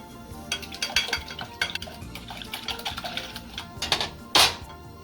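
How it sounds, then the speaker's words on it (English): Three eggs whisked in a bowl, a quick irregular clatter of the whisk tapping and scraping the sides, close and busy, with a few sharper clinks near the end. "we got our 3 eggs here. We're going to whisk them up."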